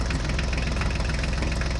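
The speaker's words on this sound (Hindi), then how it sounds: "चलो चलो ड्राइवर, ध्यान से लेकर चलो ट्रैक्टर गाड़ी को।" A mini tractor engine runs steadily and close by, a dense rhythmic mechanical chugging that stays even throughout with no voices over it.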